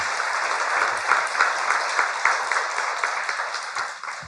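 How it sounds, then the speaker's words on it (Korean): Studio audience breaking into applause during a talk show interview with a film director, steady lively clapping from a crowd lasting a few seconds with no voices over it. "박수."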